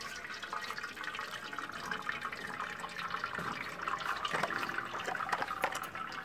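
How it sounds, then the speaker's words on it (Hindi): Cold water pours from a tap over boiled sevaiyan in a large metal tray, a continuous splashing rush with scattered drips, close and fairly loud. "अभी यानी आप इनके ऊपर ठंडा पानी डालेंगे"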